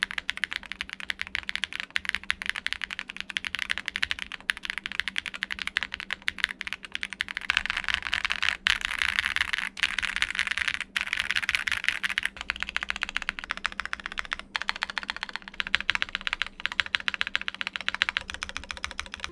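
Continuous fast typing on a Luna80 mechanical keyboard whose flex cuts are taped with thin gaffer's tape, producing dense close-up key clacks with a busier burst midway, no voices.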